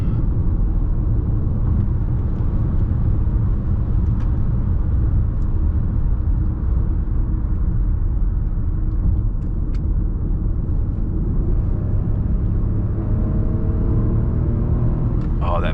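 A Lexus RX350L with a V6 engine drives along, heard from inside as a steady, smooth low rumble that stays even and fairly quiet throughout.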